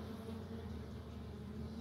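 Honey bees buzz around a garden box, a dense continuous hum of many wings close by, steady and unbroken with no voices.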